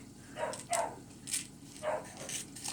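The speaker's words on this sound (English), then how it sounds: "That's my dog barking." A dog barks several times in irregular bursts, moderately close, with short gaps between barks.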